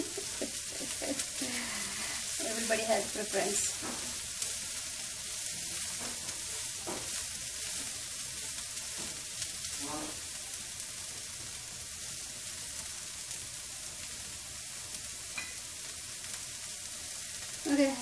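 Bean sprouts sizzle on a hibachi grill at home alongside shrimp, scallops and lobster, a steady hissing fry with occasional stirring scrapes, while a person speaks briefly over it.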